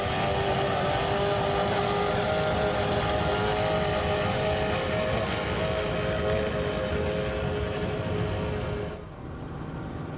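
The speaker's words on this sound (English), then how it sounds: "Let's check in on the Performance Race Boats MTI. It's powered by 750 horsepower Koss Racing engines." An MTI performance race boat running 750 horsepower Koss Racing engines roars steadily at full throttle, a dense loud engine drone that drops off sharply near the end.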